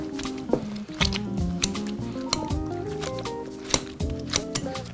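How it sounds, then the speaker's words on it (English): Strawberries mashed with a potato masher in a kitchen, producing a run of wet squishing presses with sharp clicks at an uneven rhythm, close and fairly loud, with music-like tones running underneath. "I've got my potato masher here."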